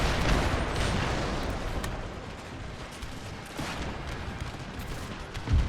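Dense musket volleys and booming grenade blasts from a large Napoleonic-era battle in Empire: Total War, a continuous loud crackle of massed fire with heavier thumps near the start and end, no talking.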